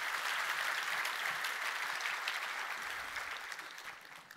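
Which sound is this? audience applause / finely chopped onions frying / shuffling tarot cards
audience applause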